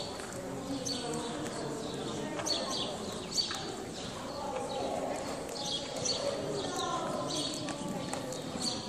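A horse's hooves clip-clop in a steady rhythm during a riding training session, moderately close, with occasional bird chirps in the background and no talking.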